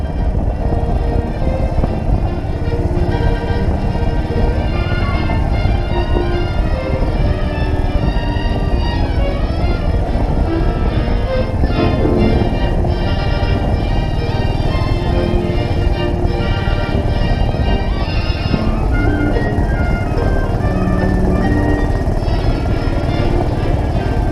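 A Norton 19S motorcycle with a sidecar, fitted with girder forks and magneto ignition, pulls away under a loud, steady engine drone that climbs in pitch and shifts as it changes up through the gears.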